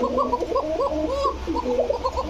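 Several pigeons cooing steadily in low, rolling, overlapping calls close at hand inside a loft of fancy breeds, without any voices.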